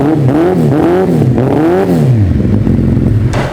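A 2013 Suzuki Hayabusa motorcycle's exhaust roars close by through a series of quick throttle revs that climb and fall, then settles into a deep, rumbling idle, loud throughout.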